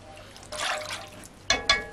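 Strawberry syrup, water and starch stirred together in a pot: soft liquid sloshing and swirling, with two sharper clinks or splashes close by near the end.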